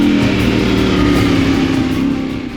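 A KTM 890 motorcycle on Noosa bush and forestry trails, its engine a steady, loud, close drone with a constant low throb that holds for a couple of seconds before easing slightly at the end.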